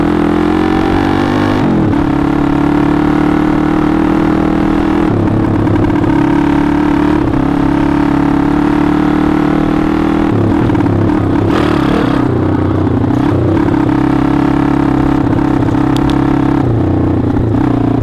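A TaoTao 140cc pit bike engine, just fitted with a replacement clutch, runs loud and close for a long stretch, with a throaty idle and a few revs rising and falling.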